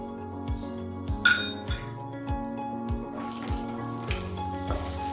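Cashew nuts roast in hot ghee in a pan, with a low steady sizzle and a run of clinks from a spoon stirring against the metal, about eight evenly spaced taps over the frying.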